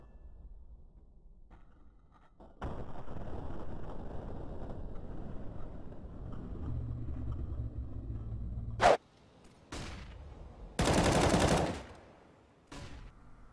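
Desert Eagle shots fire in Counter-Strike: a few sharp, loud gunshot bursts stand out against a quiet game background, with a sustained roaring blast in between and no talk.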